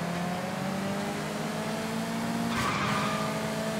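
Car racing in the video game Sleeping Dogs on an impounded racing circuit, with a steady loud engine drone and a sharp tire squeal and skid near the end, with no talk.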